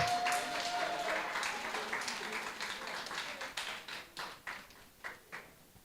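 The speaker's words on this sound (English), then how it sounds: "Let's give him a round of applause" Applause for the runner-up at a primary school spelling bee, a crowd clapping near and steadily, then thinning to a few scattered claps that fade away.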